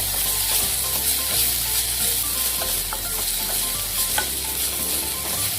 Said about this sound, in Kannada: ಒಂದು 2 ಮಿನಿಟ್ಸ್ ಫ್ರೈ ಆಗಲಿ.